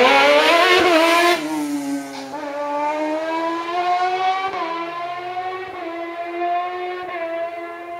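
Race car at the Biot hill climb, its engine revving high and shifting up through the gears with a strident, sustained wail that fades slightly as it pulls away, with no talk over it.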